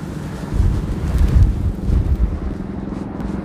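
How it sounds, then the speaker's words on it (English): Steady wind buffets the microphone outdoors in Astoria, Queens, New York City, with a loud low rumble that swells and eases in gusts. "It is windy today."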